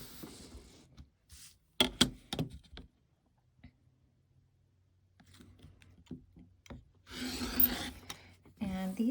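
Scissors or a rotary cutter trims the edges of a paper-pieced hexagon quilt block, giving a few short, close cutting snips and rasps with quiet gaps between them, and a louder burst of rustling near the end.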